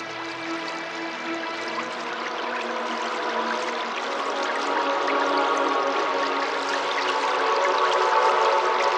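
Steady, loud rush of water pouring from four stone lion fountains at an Egyptian obelisk in a Roman piazza, a continuous splashing wash that holds even throughout.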